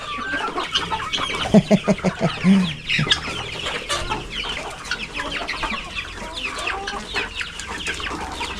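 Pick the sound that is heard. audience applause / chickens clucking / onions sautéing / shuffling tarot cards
chickens clucking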